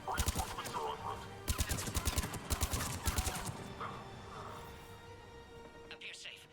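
Rapid gunfire in the video game Mass Effect 3 Legendary Edition comes in close, punchy bursts under game voices and radio chatter, then fades.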